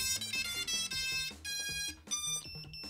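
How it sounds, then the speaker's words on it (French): A low-battery buzzer on an FPV drone beeps in quick, repeated bursts of shrill tones that shift in pitch, faint and close by. "j'ai le buzzer qui va se mettre en sécurité, donc là il va biper comme ça pendant 20 secondes"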